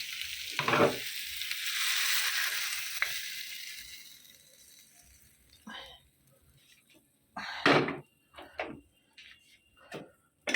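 Food hits a hot pan with a loud sizzling burst that slowly fades, followed by scattered clinks and stirring noises and brief throat sounds.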